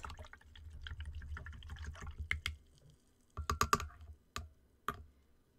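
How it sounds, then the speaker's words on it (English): A paintbrush swished and rinsed in a water jar during gouache painting, with a run of quick rhythmic clinks and splashes, then a few sharper knocks and taps against the glass, close and fairly quiet. "Rinse, rinse, rinse, rinse, rinse."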